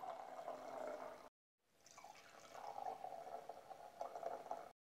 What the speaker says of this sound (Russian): Сейчас наливаем красное вино.